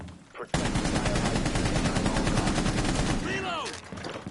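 Automatic gunfire in the tactical shooter Rainbow Six Siege rattles in a fast, sustained burst for about three seconds, loud and close, after which a voice speaks briefly.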